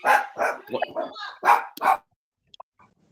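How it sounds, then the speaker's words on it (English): A dog being groomed yips and barks in a short burst of sharp, close barks that stop abruptly, leaving near silence with a faint yelp after. "My dog's getting groomed, so there's a little noise in the background."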